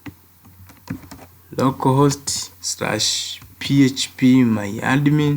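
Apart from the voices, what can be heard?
typing on a computer keyboard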